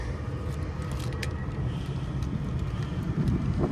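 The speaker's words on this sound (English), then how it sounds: "Gosh, it's super windy, sorry." Steady, broadband wind noise buffeting the microphone, a low continuous rumble with occasional gusts and no speech.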